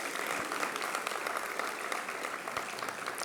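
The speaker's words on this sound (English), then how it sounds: "I think that deserves some applause" Audience applause at a university research awards ceremony, a steady wash of many hands clapping together throughout, moderately loud and even with no pauses.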